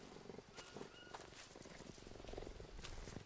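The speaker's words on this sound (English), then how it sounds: "Oh, and a cat." A cat in the jungle survival game Green Hell purrs or growls low and rough against a dense wash of rainforest ambience, with insects and scattered rustles.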